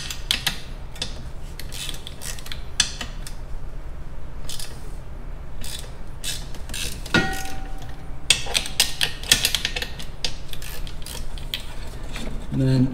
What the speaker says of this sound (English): I'm gonna loosen these screws back up.